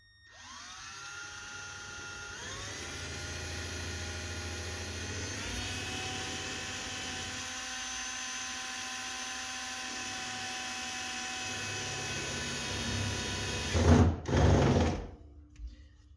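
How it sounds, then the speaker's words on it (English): Power drill running continuously with an improvised, odd-sized bit while installing a Wiechers strut bar on a W201 Mercedes 190E, a steady high whine held for about fourteen seconds, then a brief rough burst as it stops. "I don't have an 8mm drill bit, but I have this"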